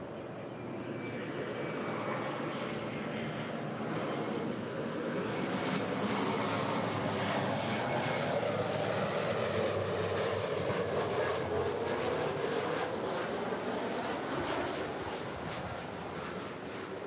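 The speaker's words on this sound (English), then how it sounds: "This next arrival is Alaska SkyWest Flight 3309 coming in from San Francisco." Alaska SkyWest airliner arriving at LAX from San Francisco, a faint, distant engine whine and rumble with a passing high tone, steady throughout and free of talk.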